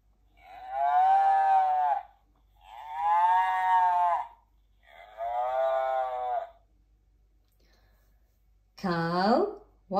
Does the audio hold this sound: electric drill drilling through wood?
no